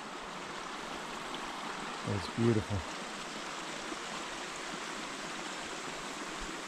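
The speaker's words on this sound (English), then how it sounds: "you hear a little bit of crickets in the distance and the water flowing" Water flowing steadily in a mountain stream on Mount Apo, a constant rushing wash throughout, with a person briefly speaking over it near the start.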